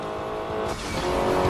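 A car in the Crash Time 5 video game running over a deployed police spike strip: a loud engine roar with tire squeal and skidding, rising steadily with no talk.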